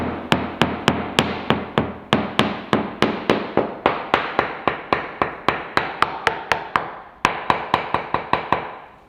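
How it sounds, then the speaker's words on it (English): A hammer taps repeatedly along a fibreglass sailboat hull, about thirty sharp, ringing knocks in a quick steady rhythm, close and loud with no talking. "let me just tap a hammer all the way down the hull here and you can hear the difference"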